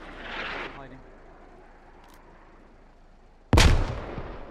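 A frag grenade goes off in the military shooter game Squad, a sudden loud blast near the end that decays into a rumbling tail, following a quieter stretch of distant gunfire and ambient battlefield noise.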